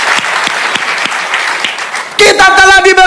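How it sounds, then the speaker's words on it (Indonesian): A church congregation breaks into loud, sustained clapping, preceded by a preacher speaking over a backing of steady crowd noise; the applause swells abruptly and fills the space. "Beri tepuk tangan yang meriah bagi Tuhan."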